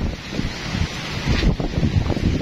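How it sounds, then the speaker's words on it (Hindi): Strong wind roars and buffets the microphone outdoors in a continuous, loud, gusting rush with low rumbling surges and no voices. "हवा बहुत तेज चल रही है"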